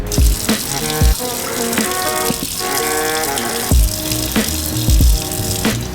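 A running tap gushes steadily while a puppy is bathed, with repeated sharp knocks and rattles as the water is splashed about, loud and close, and no talk during the stretch.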